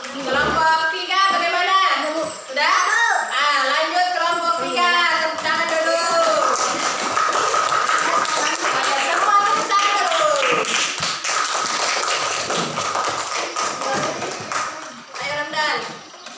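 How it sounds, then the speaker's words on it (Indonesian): Students in a classroom applaud a presenting group, a sustained crowd of clapping hands running steadily throughout, with speech at the start and end. "Tepuk tangan dulu"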